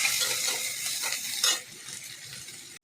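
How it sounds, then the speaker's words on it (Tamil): Chopped onions and green chilies frying in oil with mustard seeds and chana dal, sizzling steadily and close, with a few spoon scrapes against the pan before a sudden stop. "வெங்காயம் வதங்கிச்சு"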